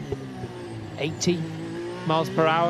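Sergio Perez's Red Bull Formula 1 car at full speed down the long straight during 2023 Miami practice, a high-pitched engine whine rising through the gears beneath continuous commentary, the pitch climbing sharply near the end.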